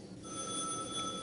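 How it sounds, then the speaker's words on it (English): A telephone rings in an office or hospital setting, steady electronic ringing tones sustained throughout, fairly close and alone with no talking. "3 lines open and there's no one to get the phone tonight"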